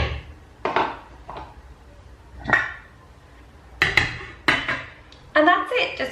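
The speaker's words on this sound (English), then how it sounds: "I'm just going to leave it and put the lid on." A lid is set on a pot of vegetarian tagine with a series of separate, sharp metallic clanks and clatters, spaced irregularly and heard up close with quiet pauses between them.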